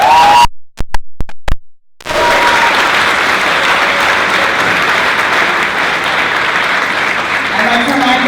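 An audience at the Ms. Wheelchair America speech night gives a huge round of applause, a loud, sustained roar of clapping that starts after a few choppy, cut-up fragments and carries on steadily with cheers mixed in.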